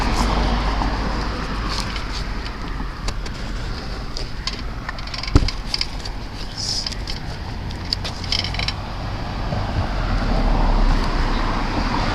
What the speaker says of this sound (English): There's cars going in and out over there.